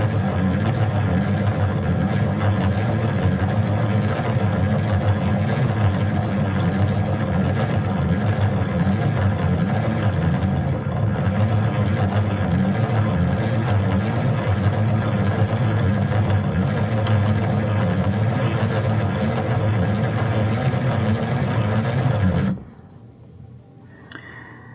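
A Stanwood Needlecrafts yarn winder winds yarn with a continuous close mechanical whir and rumble that holds steady for about twenty seconds, then stops abruptly, leaving a quiet room.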